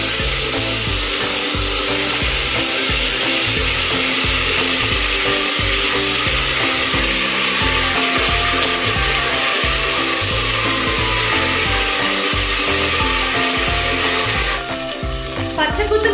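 A ground paste of ginger, garlic and green chili fries in hot oil for a Kerala-style chicken curry, making a loud, dense, continuous sizzle with a steady rhythmic stirring or scraping pulse beneath, close up throughout.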